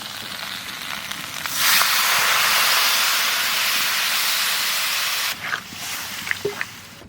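Water poured onto duck meat frying in a pan bursts into loud, close hissing steam that sizzles steadily for several seconds, then dies away into softer crackles and pops, with no talking.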